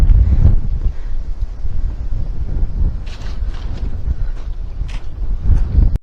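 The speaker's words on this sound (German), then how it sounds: "hier pfeift gerade ein ordentlicher Wind" Strong wind blows across a rock ledge in Rokka Gorge near Chania and Kissamos, a continuous, close buffeting rumble with gusty swells throughout and no talking.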